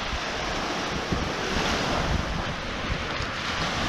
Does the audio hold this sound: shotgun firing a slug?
no